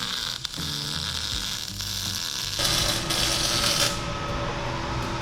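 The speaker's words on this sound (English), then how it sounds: "we're gonna go ahead and finish weld these things in there" Metal parts being finish-welded in a fabrication shop: a steady, close electrical buzz and crackle over a low mains hum, running continuously and growing slightly louder near the end, with no talking.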